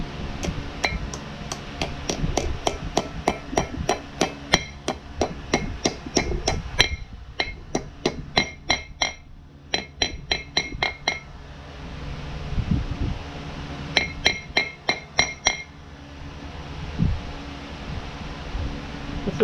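A hammer tapping a seal into the brake hub of an Olds 442, with rapid bright metallic taps in several close runs, broken by brief pauses and backed by a steady airy hiss.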